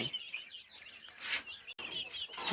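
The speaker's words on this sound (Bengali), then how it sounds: "দেখতে পাচ্ছেন যে আমার রাঙা মুরগিগুলো" Red backyard chickens cluck and chirp nearby, with short repeated calls over a light background and a brief break partway through.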